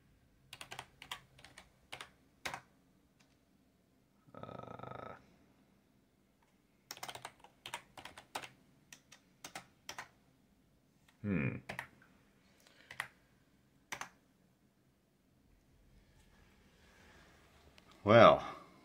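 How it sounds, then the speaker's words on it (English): Keys clatter on a computer keyboard during an Ubuntu boot repair, coming in scattered quick bursts of clicks and a few sharper strikes, with a person talking in between. "type enter and hit reboot to start your system."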